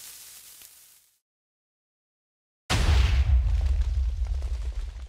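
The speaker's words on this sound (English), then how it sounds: "There's a bigger TNT cannon." A loud, booming video game TNT cannon explosion bursts in suddenly after a brief silence, followed by a sustained rumbling roar and crackling debris.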